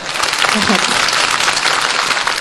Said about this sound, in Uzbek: Qizg'in alqishlar bilan Ro'shangilni uzatib qo'ygan bo'lsak